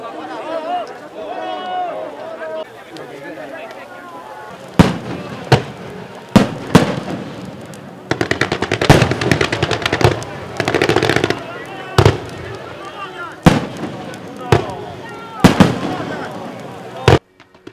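Fireworks burst over the shore at the Keelung Ghost Festival water lantern release: a string of sharp, loud bangs at uneven intervals, with crowd chatter and a narrating voice underneath.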